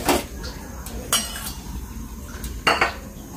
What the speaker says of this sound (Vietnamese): Giờ bây giờ chuẩn bị xào nha.